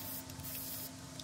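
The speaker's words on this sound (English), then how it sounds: "Shellac Spray" Zinsser shellac spray from an aerosol can hisses in one continuous, steady burst at close range while a 1942 Singer sewing machine cabinet is restored.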